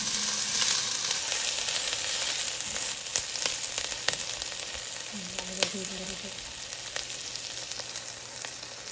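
Ingredients for pork sinigang sautéing in a hot pan, a steady loud sizzle and crackle close up with occasional stirring scrapes and small clinks throughout.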